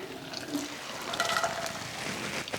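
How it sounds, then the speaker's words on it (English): Water with cooked pasta and vegetables pours into a colander, a steady gushing, rushing splash that holds for a couple of seconds with no voices. "I'm just going to strain it into a colander"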